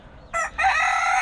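A rooster in a garden coop with a straw corner crows in reply to another rooster, nearby and clear, with a short first note and then the sustained start of the call, cut off quickly.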